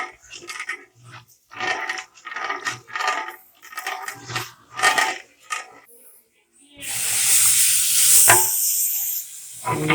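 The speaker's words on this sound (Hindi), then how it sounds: "प्याज ब्राउन हो रहे हैं।" Onions are browning in about 2.5 kg of oil in a large pot for degi pulao. Speech comes in choppy bursts first, then a loud, steady hiss of frying swells up and carries through to the end.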